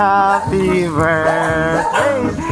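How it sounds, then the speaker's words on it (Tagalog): Dogs bark and yelp in quick, excited bursts close by, loud and overlapping for a couple of seconds, with voices mixed in. "Ay, may mga aso!"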